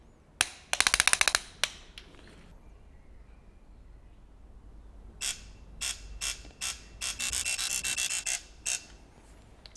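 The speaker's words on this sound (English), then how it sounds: "So we're torquing from 1 to 10, the torque is 30 Newton meters, and then twice 90-degree angle." A torque wrench tightens new bolts with washers on a bare V8 engine block: two clusters of sharp, rapid ratcheting clicks, the first short and brief, the second longer and steadier, with a quiet pause between.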